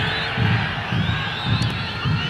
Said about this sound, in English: Cheers from the crowd, thinking it's a handball on Zavaleta.